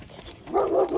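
A German Shepherd or similar dog on a walk gives one or two short, fairly close barks after a quieter start.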